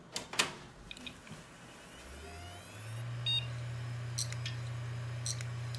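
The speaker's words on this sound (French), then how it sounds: "Alors je vous fais écouter le disque dur" A faulty new hard disk drive powers up with clicks and a rising whir that settles into a steady low hum, broken by short repeated high beeps, no speech.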